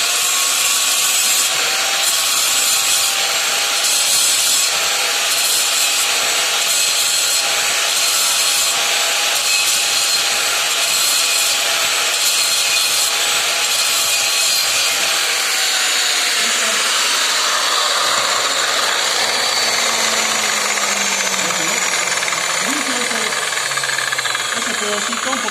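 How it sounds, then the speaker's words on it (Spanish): A metal piece is scrubbed clean before welding. The harsh, rhythmic scraping or grinding is loud and close, repeating in steady strokes before it shifts to a smoother, falling whine. "Entonces lo que hago es limpiar este pedazo."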